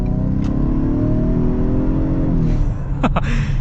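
A 2023 Ford Explorer ST-Line with a 2.3-litre four-cylinder engine accelerates in traffic, its loud, steady engine drone climbing in pitch, with a few brief ticks near the end.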